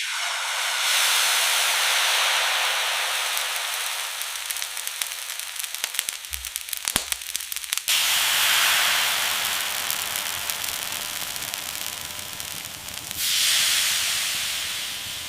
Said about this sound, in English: A bank of high-pressure airless spray guns moves back and forth, atomizing the batter into a fine mist.